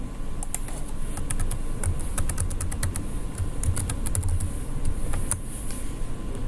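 Keys on a computer keyboard clatter in fast, irregular bursts of close, crisp clicks over a steady low background hum, with brief pauses between runs of typing.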